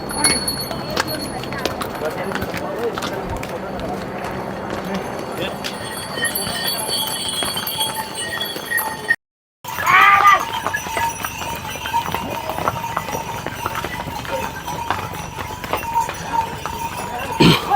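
Horses and mules walk along the crowded Kedarnath mountain trek path, with hoof clops and jingling mixed into busy outdoor noise and people talking, interrupted by a brief silent gap.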